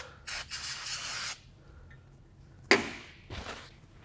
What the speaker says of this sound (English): take this brake parts cleaner and clean up these areas that got wet